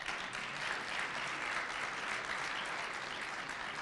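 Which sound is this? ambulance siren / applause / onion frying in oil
applause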